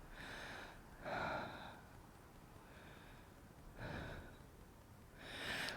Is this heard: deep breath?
yes